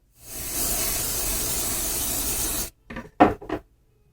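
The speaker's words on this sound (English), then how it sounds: "So I'm going to go ahead and spray on my stabilizer." A steady, close hiss of aerosol adhesive sprayed onto embroidery stabilizer for about two and a half seconds, followed by a few short rustling and handling sounds.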